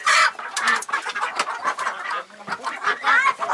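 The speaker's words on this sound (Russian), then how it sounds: "Курицы туда пошли, курям здесь сыпани." Farmyard chickens cluck and squawk in a busy, overlapping chorus close to the listener, with short sharp calls coming in irregular bursts.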